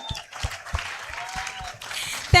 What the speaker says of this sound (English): A resounding one with cheers if we can.